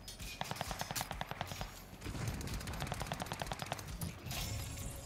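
Rapid automatic gunfire in Call of Duty Warzone payload mode, fast bursts of sharp repeated shots crackling over a noisy battle background, fairly close, with no talk.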